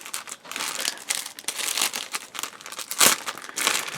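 Crinkly plastic bag holding AFV Club 1:35 M60A1 Magach 6B GAL model kit sprues being pulled open where sellotape seals it, with continuous close crumpling, rustling and a sharper tearing burst near the end, no talking.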